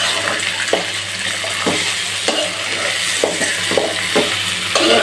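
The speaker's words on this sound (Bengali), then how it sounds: "মুগের ডাল ডালটা দিয়ে ভালো করে ভেজে নিচ্ছি" Mung dal sizzles as it is fried in a pan in a home kitchen, with a loud, close crackle and a few rhythmic scrapes of a spoon stirring it, with no one speaking.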